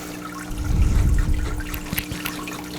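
Water pours into a freshwater aquarium during a routine water change, a close, steady splashing rush that swells over the first second and then settles into a continuous trickle, with no one speaking.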